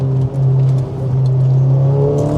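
An Audi S3 with a 400bhp stage 2 tuned turbo engine and quattro drive pulls hard out of a corner, a loud, steady engine drone rising slightly in pitch as it accelerates, close and continuous.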